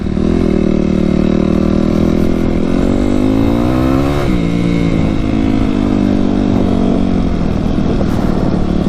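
Yamaha YZ250F dirt bike on its first ride, a steady loud four-stroke engine drone with slight pitch rises and dips as the rider eases along, close and continuous with no talking.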